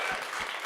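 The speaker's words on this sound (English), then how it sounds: "Give her a round of applause." A brief burst of steady audience applause at a Sundance Film Festival event featuring farmers, dense clapping from a crowd with no pauses.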